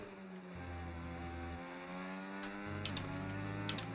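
A V10 Formula 1 engine in the F1 25 video game on the Qatar Grand Prix circuit, droning steadily with rising and falling revs and gear changes, moderately loud, with no speech.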